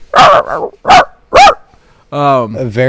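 A man imitates a dog with three loud, short barks, followed by a drawn-out whiny yelp like a disturbed animal, up close during casual gaming talk.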